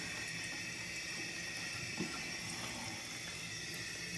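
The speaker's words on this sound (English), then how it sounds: "So I've got the hot water going, and when I opened up the valve," Hot water runs through the supply line of a toilet seat bidet, a steady close hiss of flowing water holding unbroken for the whole stretch, with one faint knock midway.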